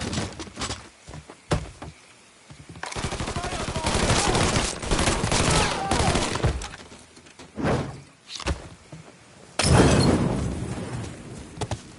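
Gunfire in the video game Mafia 3, intermittent bursts of loud shots and rattling automatic fire broken by short gaps, with thuds and raised voices in between and one heavy blast near the end.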